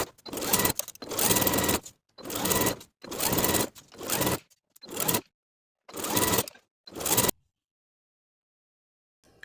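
A sewing machine stitches a waistband onto the top of a pair of pull-on barrel leg pants, running in about eight loud, close bursts of rapid stitching separated by brief pauses, then falling silent.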